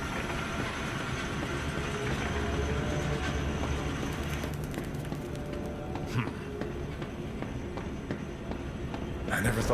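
Train moving in the video game Zoochosis, a continuous loud rumbling roll with rail clatter throughout, with a few brief knocks near the end and no speech.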